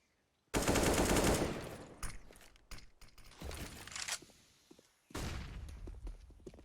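Gunfire in the video game Counter-Strike: Global Offensive during a professional esports match, with a loud sustained automatic burst followed by scattered shots, clicks and footsteps, then another heavy burst near the end.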